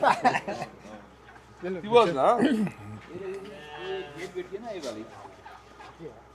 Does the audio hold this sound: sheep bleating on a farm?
yes